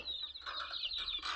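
Native speckled chickens clucking continuously up close at a farm in Feroke, Kozhikode, a busy, slightly raspy chatter of several birds with no talking.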